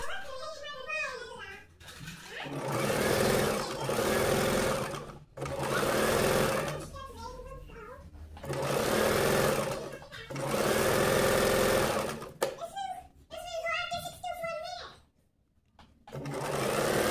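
Domestic sewing machine stitching a zigzag stitch in repeated loud motor bursts of about two seconds each, separated by short pauses where someone talks.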